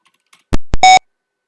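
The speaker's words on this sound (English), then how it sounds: "I need to disable that beep" A Sam Coupé computer gives a short electronic beep, a single bright buzzy tone lasting a fraction of a second, preceded by a couple of sharp clicks in an otherwise quiet room.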